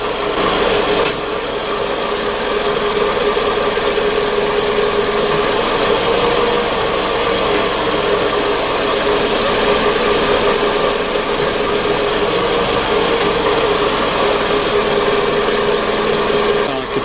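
A 2009 Scion xB engine idles with a steady, loud, continuous mechanical drone and rattling vibration, recorded close to the engine with no speech.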